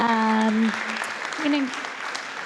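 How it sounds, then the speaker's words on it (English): Audience applause at an Austin sustainable business pitch competition carries on as a steady, dense clatter of clapping while a voice speaks briefly over it at the start and again near the middle. "just want to give everyone a round of applause"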